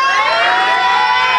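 Tamiya mini 4WD race car motors spin up at a hobby shop race, giving a loud, steady, high-pitched electric whine that holds without a break.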